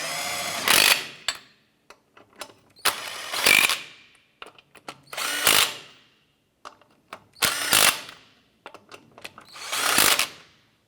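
A power tool snugs down wheel lug nuts on a Chevy S10, firing in five short, loud bursts about two seconds apart, with quiet clicks and handling noises between each run.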